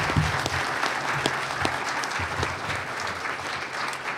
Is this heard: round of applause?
yes